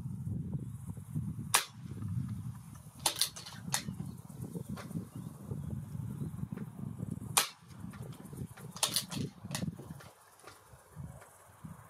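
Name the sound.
4.5 caliber air rifle shots at a 100 m target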